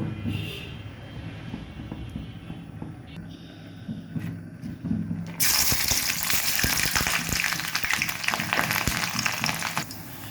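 Onions and green chilies dropped into hot mustard oil burst into a loud, steady sizzle about halfway through, after a stretch of quieter kitchen clatter and talk.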